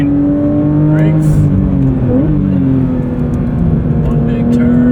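A 2024 Porsche 911 GT3 driven on a track pulls steadily with a loud, close engine note whose pitch rises and dips briefly before building again, continuous throughout.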